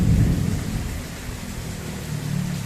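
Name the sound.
rain with thunder during a storm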